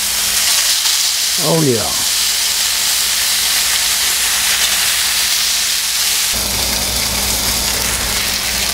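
A grouper fillet sizzles steadily in a hot frying pan, a loud, even hiss that runs for several seconds while a voice speaks briefly.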